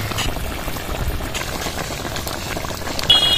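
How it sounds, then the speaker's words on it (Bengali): Spinach curry with lentil fritters simmers in a pan, a steady close bubbling and hiss running throughout with no voices. "মিনিট 2 ফুটিয়ে নেবো ভালোভাবে"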